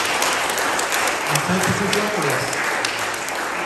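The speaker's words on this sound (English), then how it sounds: "give yourselves a round of applause for coming back" Audience applause at an artist talk rises as a steady wash of clapping from a gathered crowd while a voice speaks over it.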